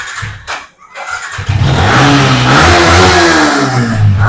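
A 2019 Yamaha MT-15 in black with blue accents, at a second-hand bike showroom, starts after a brief sputter and dip, then settles into a loud, steady engine drone with rising revs, close to the listener.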